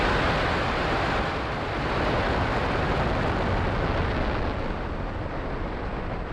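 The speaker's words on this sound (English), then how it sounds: "Engines full power and liftoff of Starlink 437." SpaceX Falcon rocket engines roaring at liftoff on a Starlink mission, a dense, loud, sustained broadband rumble and crackle that holds steady throughout with no voices.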